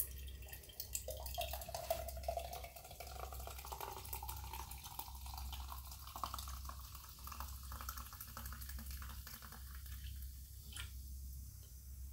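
Tap water running while a cup is washed, a continuous gurgling and splashing stream with small drips and squishy handling noises, close and moderately quiet, with no talk.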